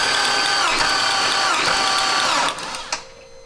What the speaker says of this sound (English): You can just start cranking as soon as you hit the key.